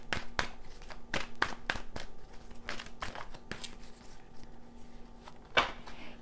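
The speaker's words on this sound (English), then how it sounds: "Some tarot cards, excuse me." Tarot cards being shuffled and handled, a string of quick crisp snaps and riffles with pauses between, close and fairly quiet, with no talking.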